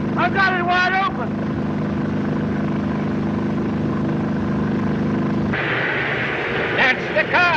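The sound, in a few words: car engine racing at full throttle in a chase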